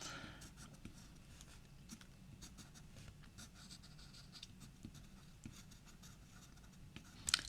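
A pencil sketches jagged tree edges on paper in quick, dry scratching strokes, closely miked and soft, with short overlapping marks and brief pauses, ending with a slightly louder scrape.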